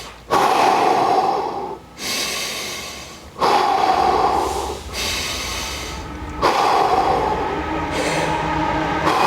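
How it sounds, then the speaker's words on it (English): Focused, forceful breaths during a mobility exercise for Olympic weightlifting, heard alone and up close as a steady rhythm of long, loud exhales and inhales, about three or four in a row. "I do like to focus on my breathing when I'm doing this exercise as well"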